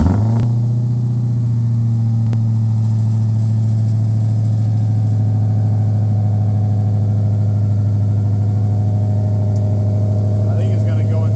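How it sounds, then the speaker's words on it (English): A 1969 Roadrunner fitted with a 2019 Hellcat Redeye V8 fires up cold with a sharp catch, then settles into a loud, steady, rumbling idle held close by. A voice can be heard briefly under the engine. "Cold start coming up in a minute."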